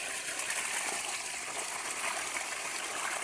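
Water gushes and splashes steadily while pumpkin plants are being watered, a continuous close spray with no talk.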